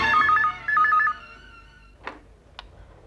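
A telephone rings while a call is placed, two short trilling electronic ring bursts followed by a quieter pause and a couple of faint clicks.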